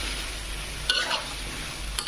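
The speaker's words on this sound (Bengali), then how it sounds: "কচুর মতিটা একটু কষানোর পরে একটু নাড়াচাড়া করে কষাচ্ছি।" Taro corms are stirred and sautéed in a frying pan while cooking for a hilsa fish dish, giving a soft steady sizzle with a few sharp spoon-against-pan scrapes near the middle and end.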